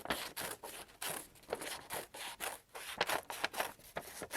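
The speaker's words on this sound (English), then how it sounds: "I can just cut it off. Make it smaller." Scissors snip repeatedly through material to trim an oversized piece smaller, a steady run of short, close, crisp cuts with brief rustling between them and no talking.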